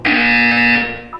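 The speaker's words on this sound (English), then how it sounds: "When you hear the buzzer, look down at the floor." A loud, steady electronic buzzer tone from the video game Portal 2 sounds alone for about a second before cutting off, followed by a brief softer blip.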